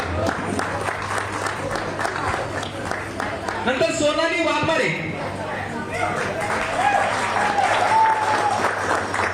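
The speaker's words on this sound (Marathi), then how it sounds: "नुपूर काशीसाठी एकदा जोरात टाळ्या वाजवा." An indoor audience claps at an employee award ceremony in Satara, with a loud burst of applause in the middle of the clip. Someone speaks over a microphone before and after the clapping, and a steady hum sits underneath.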